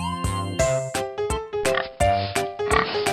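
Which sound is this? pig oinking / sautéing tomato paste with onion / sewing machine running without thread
pig oinking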